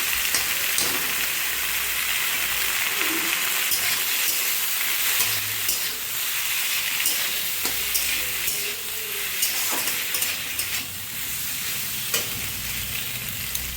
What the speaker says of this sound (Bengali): তো দেখো আমার এটা ভাজা হয়ে গেছে এই পাস্তাটা এবার